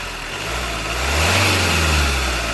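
A 2017 Hyundai i20 Asta car engine revs up under the accelerator, its roar swelling to a sustained, loud rumble before easing slightly, with no voices.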